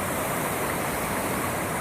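Rushing water at the top of a waterfall where people swim, a steady, loud, continuous roar of broadband noise with no breaks, close by and alone.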